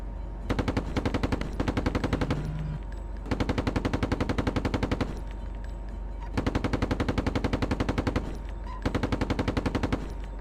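Gunfire in the tank simulator Steel Beasts Pro PE comes as long, loud, rapid machine-gun bursts, four sustained strings of shots separated by short pauses, close and dominant.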